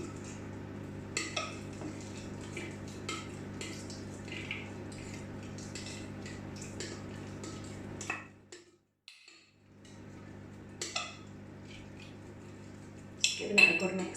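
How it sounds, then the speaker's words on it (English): A spoon stirring a stiff sourdough starter in a bowl, with repeated scraping and clinks against the sides, steady and close, broken by a short pause partway through, with a low steady background hum. "Giving it a good mix. It's a bit stiff, but it's fine."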